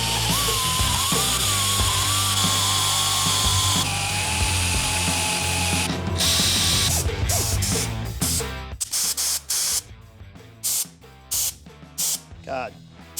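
An angle grinder works against a motorcycle rocker box on an 883 to 1275 engine conversion, a loud sustained whine for several seconds before it cuts out into sputtering bursts and silence.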